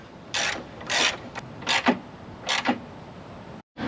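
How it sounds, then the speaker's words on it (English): A hand ratchet tightens a 10mm headlight bolt on a Pontiac GTO during an oil cooler install, producing four or five short bursts of rapid clicking, close and fairly loud, with brief pauses between strokes. "Tighten up our 10mm for the headlight."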